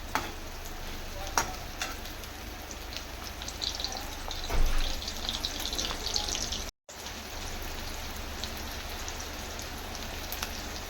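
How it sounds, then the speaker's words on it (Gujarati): Onions sautéing in a pan with large tomatoes waiting to be added, a dense, steady sizzle and crackle with occasional stirring scrapes, close and continuous. "ડુંગળી થોડીક સતળાઈ જાય પછી આપણે આમાં મિક્સ કરીશું ટમેટાં"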